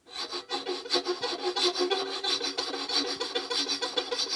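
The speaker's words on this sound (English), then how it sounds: "which again is just moving the bow back and forth." A fiddle bow is drawn rapidly back and forth across the strings in an old-time fiddle technique, giving a continuous raspy, scratchy rubbing with a steady pulsing rhythm, close and fairly quiet, with no voice.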